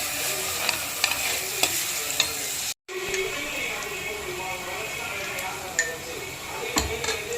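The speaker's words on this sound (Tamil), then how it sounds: "கூட அப்படியே மல்லித்தலையும் போட்டுட்டு நல்லா வதக்கலாம்." Onions and coriander leaves sautéing and being stirred in a pan, a steady close sizzle with scraping strokes and a brief break partway through.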